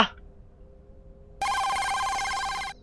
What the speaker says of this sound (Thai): เสียงโทรศัพท์เหรอ